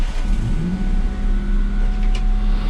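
A car engine revs during radiator bleeding, a loud, steady mid-pitched drone with a short rising sweep near the start, heard up close with no talking.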